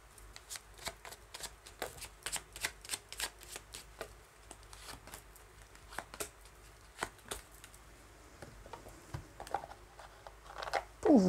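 A small deck of Le petit oracle des anges oracle cards is shuffled steadily for several seconds, giving repeated crisp riffles and taps close to the listener, quiet and without speech.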